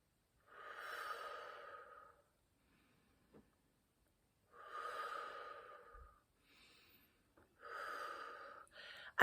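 Slow, deep breathing in a breathing exercise: three long, airy inhale-exhale sweeps separated by quiet pauses, close to the ear, with a short extra breath near the end.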